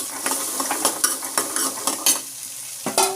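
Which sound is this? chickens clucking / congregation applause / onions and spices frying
onions and spices frying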